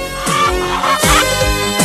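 A trained chicken, in an animated 1984 French episode, gives rapid, loud clucks and squawks in a continuous burst, close and alone without talk.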